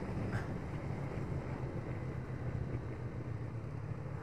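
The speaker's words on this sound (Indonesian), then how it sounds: "Mana anginnya hari ini kenceng lagi." Strong wind buffeting the microphone during a motorcycle ride on a Yamaha Vixion R along the Pare–Wates road in Kediri, a steady broadband rushing roar with low rumble throughout, loud and continuous with no talking.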